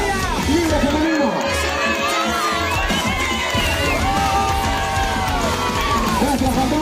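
A crowd at a race podium cheers, whoops and shouts, with loud high voices and children's yells layered in a continuous, close, energetic roar, with some talking underneath.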